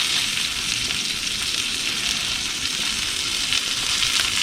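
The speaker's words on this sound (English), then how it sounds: "Sear it up." A tomahawk ribeye steak sears in a hot cast iron pan, giving a loud, continuous, even sizzle close up with no break.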